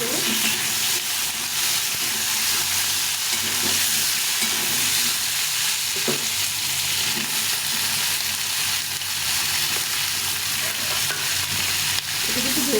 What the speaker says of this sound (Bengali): ভালোভাবে ভেজে নেব সবজিটা